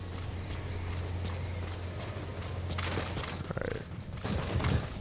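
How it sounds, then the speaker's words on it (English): Horse hooves clip-clop in Metal Gear Solid V: The Phantom Pain, a steady walking rhythm of in-game footfalls, fairly close and moderately loud over a low ambient hum, with a few stronger strikes near the end. "There's Diamond Horse."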